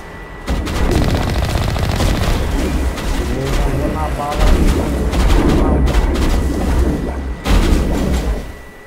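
Gunfire in the sci-fi shooter Mass Effect Legendary Edition, with loud bursts and repeated shots cracking over a dense battle mix, and a voice talking through it.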